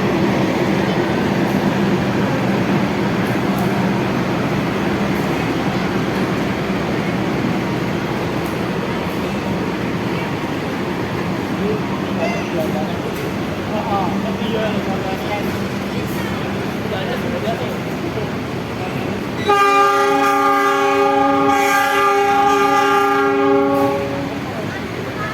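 A Prameks passenger train shunted by locomotive 7723 rumbles steadily nearby, then a loud diesel horn blasts in a sustained tone near the end, with an announcement-like voice audible in the background.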